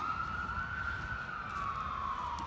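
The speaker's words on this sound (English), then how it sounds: "It's a ambulance." A faint, distant ambulance siren in a small town wails steadily with a slowly falling pitch, heard alone over a quiet background.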